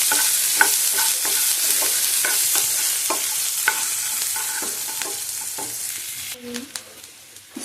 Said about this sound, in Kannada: ಈರುಳ್ಳಿ ಹಾಕ್ಕೊಂಡು ಕೂಡ ಫ್ರೈ ಮಾಡ್ಕೋಬೇಕು.